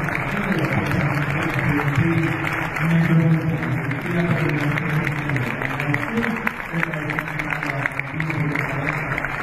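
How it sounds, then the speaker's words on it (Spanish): A crowd at an outdoor ceremony marking 200 years since the Battle of Maipú applauds. The clapping is dense and sustained, with a tonal murmur of voices or music beneath it. "brindemos un fuerte aplauso"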